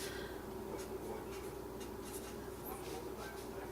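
A pen or marker strokes across a board during a maths lesson on complex numbers, giving faint, intermittent scratchy squeaks over a low, steady room hum.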